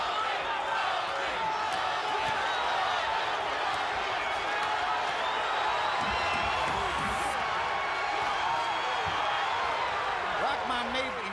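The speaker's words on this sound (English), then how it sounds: "Crowd is starting to chant Toney, Toney, Toney." Boxing arena crowd during the James Toney vs Hasim Rahman heavyweight fight, a dense, steady roar that holds for the whole stretch, with a ringside commentator talking over it.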